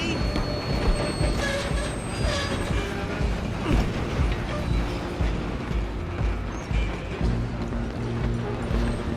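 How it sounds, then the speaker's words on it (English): A train rumbles along the rails in the Red Dead Redemption 2 video game, with a continuous heavy roll, clanks, and squealing wheels, loud and steady for several seconds. "I'm gonna ride ahead and stop the train."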